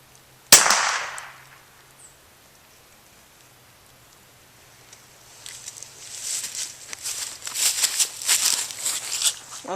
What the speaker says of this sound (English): I'm going to take another shot, aiming at bullseye